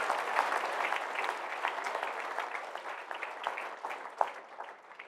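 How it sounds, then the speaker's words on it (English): Audience applause at a Gathering 4 Gardner talk on puzzles and mathematics, a steady patter of many hands clapping at moderate distance that slowly thins out toward the end. "Please give them a great round of applause."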